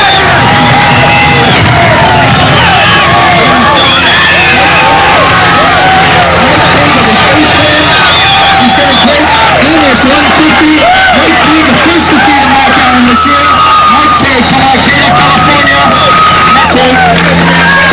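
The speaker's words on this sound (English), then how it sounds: "as the noise of the crowd begins to fill his head" Large crowd cheering and yelling at the 1987 Hilton Head National Championship Triathlon finish line, loud and dense with whoops and shouts rising and falling continuously, voices overlapping in a sustained roar.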